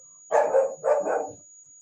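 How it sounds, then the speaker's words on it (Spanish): A dog barks indoors, two close, loud barks in quick succession, each a doubled woof, over a quiet background. "no ladres, va."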